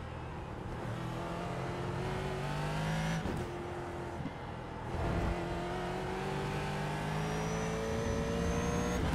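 Ford GT3 race car engine in iRacing, climbing steadily through the revs with brief dips at gear shifts, a smooth sustained drone heard alone.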